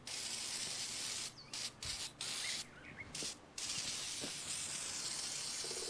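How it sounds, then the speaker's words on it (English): Gunk original formula degreaser sprayed onto a 1981 Honda CM200T TwinStar motorcycle, a steady close aerosol hiss running almost continuously with several brief pauses between bursts, no voices. "using some gunk degreaser, original formula,"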